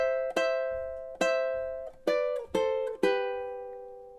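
Ukulele strumming measure 3 of a song, five bright chord strums spaced in time, each ringing and decaying, close and clear with no voices.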